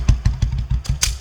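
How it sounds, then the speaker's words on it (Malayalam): Motorcycle engine on a comedy stage show, running in uneven low pulses as the bike is brought to a stop, close and fairly loud with no talk over it. "ബൈക്ക് പതുക്കെ നിർത്തി നടന്ന് ചെന്നാലേ അവന്മാരെ പിടിക്കാൻ പറ്റുള്ളൂ"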